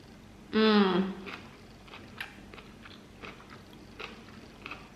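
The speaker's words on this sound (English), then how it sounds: "Get that nice crunch from the jalapeno." A crunchy jalapeno party snack gets one loud, sharp bite up close, followed by softer, irregular chewing crunches that fade over the next few seconds, with no talking.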